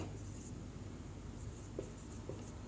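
Faint, steady scratching of writing on a board during a classroom lesson, a soft continuous scrape under quiet room tone with a couple of small taps and no speech.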